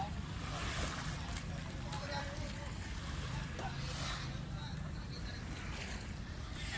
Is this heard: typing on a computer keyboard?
no